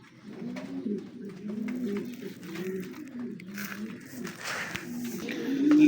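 Pet pigeons coo while eating grain coated with fish oil, giving repeated soft, low, rolling calls close by with faint rustling in between.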